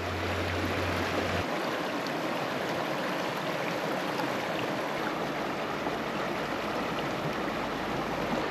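Continuous rushing of creek water flowing over rocks, steady and fairly close, with no voices.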